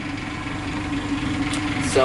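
A sailboat's engine idles while the boat waits for a bridge to open: a steady, low mechanical drone that runs unbroken, with someone talking over it.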